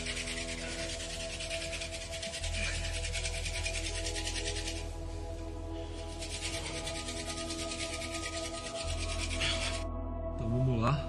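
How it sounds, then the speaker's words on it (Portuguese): A hand drill friction fire attempt: a wooden spindle is spun by hand against a wooden board, giving a steady, continuous rubbing rasp that pauses briefly and then resumes, alone and close. "Vamos lá para mais uma tentativa de furar a madeira aqui, fazer o nosso fogo hand drill"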